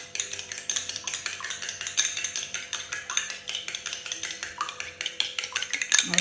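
Spoon scraping and clinking against a bowl while tuna pie filling with egg is stirred, a rapid, steady rhythm of close metallic taps and scrapes with no talking.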